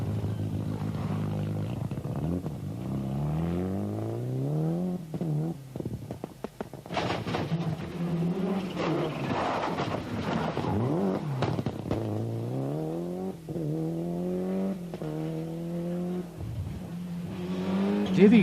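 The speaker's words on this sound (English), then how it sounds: "just 3 seconds behind him comes the Ulster Rally novice Liam O'Callaghan, who's having an excellent run in the SO Ultron GT4" A rally car races flat out along a stage of the 1995 Ulster Rally, its engine climbing and dropping through repeated rev sweeps and gear changes, loud and close, with no voices.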